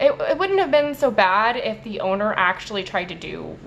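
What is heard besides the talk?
No distinct noise like a dog, phone or traffic.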